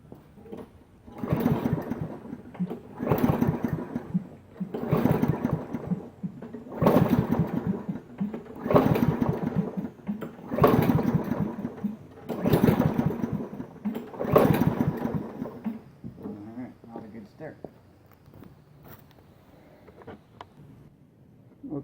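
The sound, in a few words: lawnmower engine being started and running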